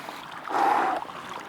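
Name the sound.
water flowing out of a rock crack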